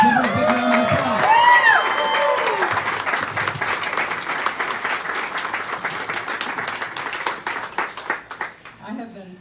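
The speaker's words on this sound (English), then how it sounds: "Give her a big round of applause." A crowd at a campaign rally for Ghazala Hashmi with a senator breaks into applause, opening under excited voices and cheers, then settling into sustained clapping that thins out toward the end.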